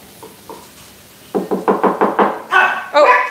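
A quick series of hard knocks, about six rhythmic raps close by, followed by two louder bursts that sound like dogs starting to bark, in a kitchen setting.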